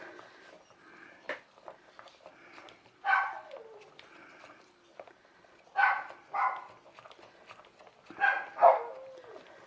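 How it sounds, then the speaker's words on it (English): Several dogs barking outside an open window, somewhat distant: scattered bursts of barks and yelps come in clusters over quieter gaps, with faint bird chirps in the background. "I don't know what goes on with these dogs as soon as I come in here trying to do a video."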